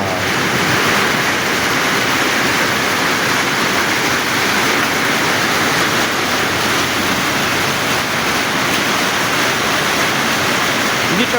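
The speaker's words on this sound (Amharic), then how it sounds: "አሁን ከባድ ዝናብ ነው እየዘነበ ያለው።" Heavy rain pours down under a thick overcast sky in a spell between hail showers, a dense, steady, loud roar of falling water that fills the whole clip with no talking.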